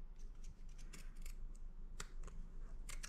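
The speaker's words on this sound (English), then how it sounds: "this will trim off a bunch of your gathering thread" Small, crisp scissor snips trimming gathering thread on dress fabric, several quick irregular cuts close up over a low, steady background hum.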